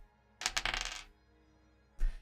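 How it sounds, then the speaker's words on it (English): Dice rolled in the game Slay the Princess: a bright rattling clatter of several quick hard taps, then a pause and a second short clattering burst, crisp and close with no talk. "I need to roll a dice."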